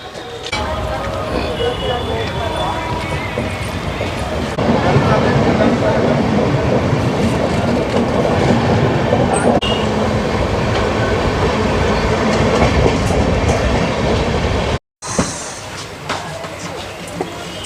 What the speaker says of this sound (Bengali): চলো ট্রেন ছাড়বে দু মিনিটের মধ্যেই